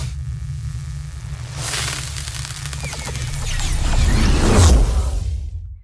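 Layered whooshes for an animated sequence sweep in over a low rumble and swell toward the end, building into a single big, deep boom impact that cuts off abruptly.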